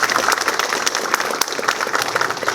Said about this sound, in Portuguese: Uma salva de palmas para o mestre Hélio também.